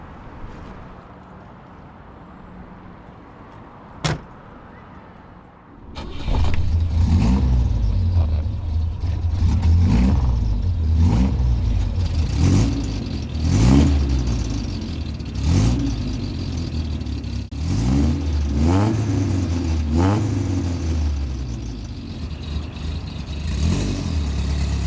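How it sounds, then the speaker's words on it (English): A 1965 Volvo 1800S starts after a quiet idle and a single sharp knock, then its engine revs repeatedly in rising and falling sweeps, loud and close, for about twenty seconds. "this is my 1965 Volvo 1800S called the Sinner"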